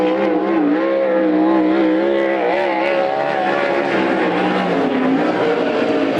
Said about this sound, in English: Raquel Ivy getting the green, and her official qualification effort begins now